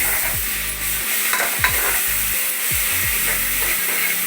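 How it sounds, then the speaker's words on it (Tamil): Chicken frying and being stirred in hot oil for a chicken leg-piece biryani, a steady sizzle with repeated scraping strokes of a spoon in the pan at close range, no talking. "எல்லாமே இந்த எண்ணெயில் போட்டு நான் இன்றைக்கி நான் வதக்க போகிறேன்"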